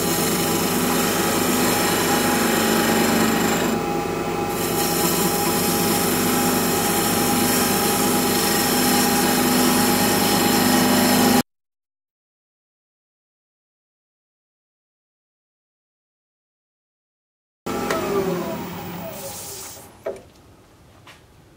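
Wood lathe spinning a workpiece at about 1500 RPM, a loud steady mechanical hum with a constant whine, then cutting off into full silence before winding down again in a fading rumble.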